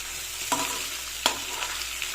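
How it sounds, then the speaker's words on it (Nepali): Vegetables frying in a home kitchen pan are stirred with a utensil, giving two distinct scraping clacks against a steady close sizzle, with no talking. "यसलाई घुमाउ घुमाउ राम्रोसँग घुमाउ फेरि।"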